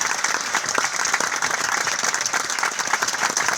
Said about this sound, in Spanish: Sí, aplaudan.